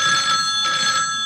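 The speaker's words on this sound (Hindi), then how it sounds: "यार फोन आ रहा है किसी का।" A phone rings in the Spider-Man 2 video game, a steady electronic trill in two pulses that sounds clear and prominent, with no talking.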